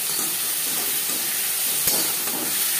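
Onions fry in oil with ginger paste and green chili paste for a rohu fish and eggplant curry, a close, steady sizzle and hiss with faint stirring and one brief clink.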